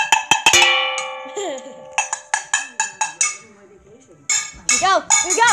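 Several resonant metallic strikes ring out with long, sustained gong-like tones, a frying pan hit repeatedly in bursts, with a few brief voices between.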